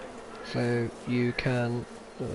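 Bees in the Farming Simulator 22 game buzz in four close, loud, tonal bursts, each swelling and stopping abruptly, with short silent gaps between them.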